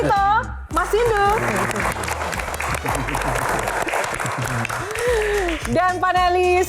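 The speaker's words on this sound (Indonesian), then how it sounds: "tepuk tangan lebih meriah lagi" Studio audience applauding a panelist introduction on a Q&A concert-themed show, sustained loud clapping filling the room while a host talks and music plays over it.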